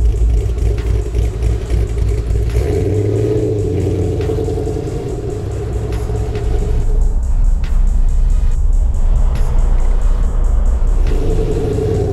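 A V8-swapped Mazda RX-7 FD with a big cam idles close by, a loud, deep, lumpy rumble with uneven loping pulses that holds steady throughout, briefly dipping then rising again.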